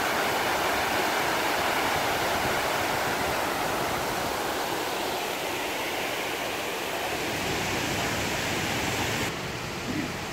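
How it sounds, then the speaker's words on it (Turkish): Water rushes and splashes in a steady, continuous roar, like a small fall or outflow feeding a pond, with no one speaking. "İşte göletin görüntüsü ve sesi."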